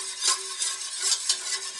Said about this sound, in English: stirring this until it thickens up